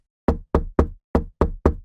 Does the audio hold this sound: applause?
no